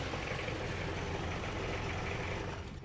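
A Wrangler-type jeep engine runs steadily, a dense, loud rumbling idle with constant broadband noise and no pauses, heard alone without talk.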